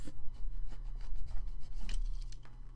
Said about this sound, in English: let me just take the scissors and snip it